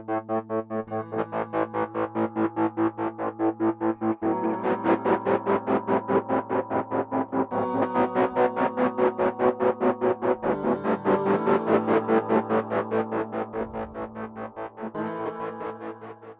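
A distorted guitar preset in Guitar Rig 5 plays a steady pulsing pattern of fast repeated notes over a low sustained hum, with a buzzy, effects-heavy tone that swells and fades in waves, with no talking.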